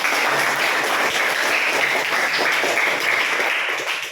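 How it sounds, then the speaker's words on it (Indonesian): Students applaud in a classroom: dense, steady clapping from a group fills the whole stretch, loud and continuous before tapering slightly at the end. "Berikan aplaus."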